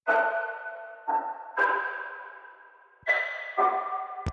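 Synthesizer tones with an ensemble effect using sine-wave motion, stacked detuned voices and wide spread, play as a series of sustained, shimmering chord notes, each starting with a soft attack and fading, separated by brief gaps.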